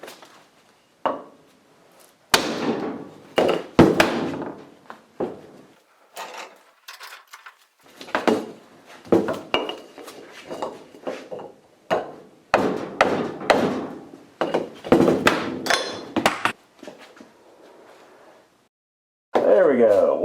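Repeated metal hammer blows knock a hydraulic coupler guard free on a Kubota machine, coming as clustered bursts of loud, close clanks and thuds with pauses between them. Brief talk runs through the clip.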